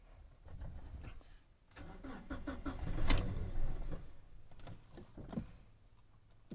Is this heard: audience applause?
no